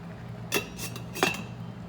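Lid set onto a pot of boiling rice in a home kitchen, two distinct metallic clanks about two-thirds of a second apart over a steady low simmering hum, close and moderately loud.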